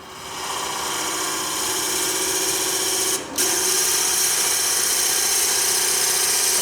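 A drill boring into a workpiece to the depth of a 1.5 inch tea light, a steady loud whine running nearly continuously with one brief dip midway.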